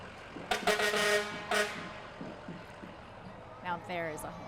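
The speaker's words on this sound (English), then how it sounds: "Now there is a horn. There is a horn." Fire truck air horn at a Fourth of July parade in Lake Forest, several loud blasts in quick succession followed by a later shorter pair, close by over crowd noise and people talking.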